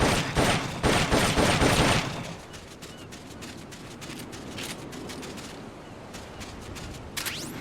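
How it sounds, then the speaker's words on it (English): Rapid bursts of M16 assault rifle fire in Metal Gear Solid: Peace Walker, a dense loud volley for about two seconds, followed by quieter scattered shots and mechanical clicks under a low ambient bed. "The M16 is a standard assault rifle, capable of rapid fire."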